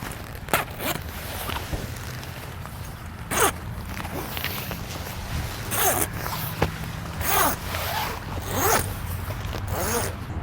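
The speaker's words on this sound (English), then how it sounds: "you're just gonna bring your zipper all the way through until your entire awning is set up" A zipper runs along a Rhino-Rack Batwing awning with a tapered extension as it is set up, giving a steady series of loud, close, raspy zipping strokes with short pauses between them.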